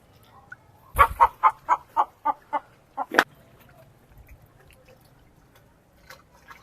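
Aseel chickens give a close run of about eight rapid, throaty clucks in a quick rhythm, ending in a sharper squawk, then a few faint clucks in an otherwise quiet setting.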